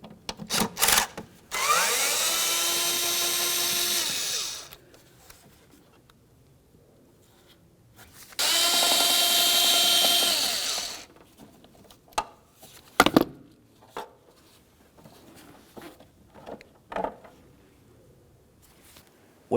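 A power drill backs out T25 Torx screws from the throttle body of a 2002-2005 Ford Explorer, two sustained whirring runs of a couple of seconds each, with clicks and rattles of the screws and tool in between.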